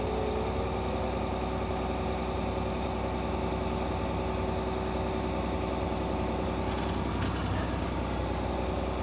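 A Komatsu excavator engine runs at a steady, loud low rumble and drone, continuous and close throughout with no talking.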